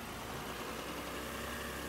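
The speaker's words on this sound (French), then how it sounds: "Le moteur va démarrer maintenant." A 2006 Toyota Highlander hybrid's engine idles in a steady, low, even hum, faint and continuous throughout with no voices.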